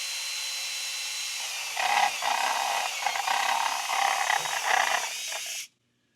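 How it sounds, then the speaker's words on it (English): An electric drill whines steadily, then bites into material with a louder grinding buzz for several seconds before stopping abruptly. "I'm going to drill this hole about midway up from the bottom"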